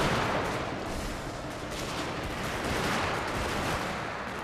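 Massed musket fire rattles in the Total War: Shogun 2 Fall of the Samurai battle, with troops kneeling to fire and laying down suppressing volleys in a dense, continuous crackle of shots.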